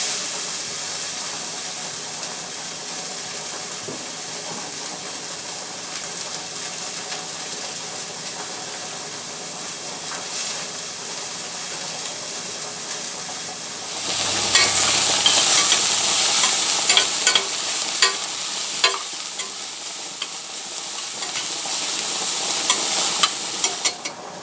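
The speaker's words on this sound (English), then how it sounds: "we're going to go ahead and put some of our olive oil into our pan. And we're going to sweat our vegetables for a few minutes." Chopped vegetables sweat in olive oil in a pan for a lasagna: a soft, even hiss at first that swells into a louder, fuller sizzle partway through, with faint stirring scrapes and no talk.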